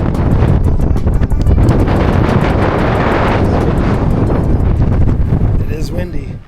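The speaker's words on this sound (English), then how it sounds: "It is windy." Strong wind at Curt Gowdy State Park in Wyoming buffets the microphone, a loud, constant rumbling roar with gusty crackles that lasts several seconds before easing slightly at the end.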